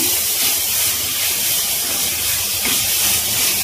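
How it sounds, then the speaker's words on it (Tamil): A quarter kilo of grated carrots sautés in hot ghee for carrot basmati rice kheer, giving a steady, loud, unbroken sizzling hiss throughout with no talking. "இந்த கேரட் வந்து நெய்யிலே நல்லா வதங்கணும்"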